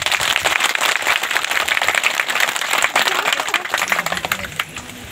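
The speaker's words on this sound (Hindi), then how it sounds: "सब कर एक बार दिल से ताली बजाए दो ठीक है ना।" A crowd of listeners claps together continuously, a dense, loud patter of hands that persists throughout before thinning slightly at the end.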